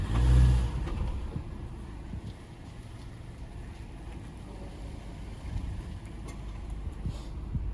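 A 2015 Honda Fit with a 1.3-litre engine pulls away, a low steady engine drone and road rumble close by after a heavier thump at the start.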